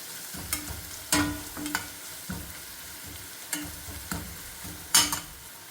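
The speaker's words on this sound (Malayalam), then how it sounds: "നല്ല ചൂടുള്ള എണ്ണ ഇട്ടിട്ട് അപ്പോൾ പച്ച ചുവന്ന് കിട്ടും." Frying in very hot oil for a quail egg curry, with a steady low sizzle and repeated scraping stirs and clinks of a utensil against the pan, close and fairly quiet, no talking.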